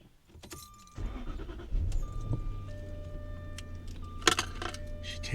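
A car engine cranks and catches with a short roar, then settles into a steady idle. Keys jingle beforehand and a chime beeps as the car starts, all close by, with no talk.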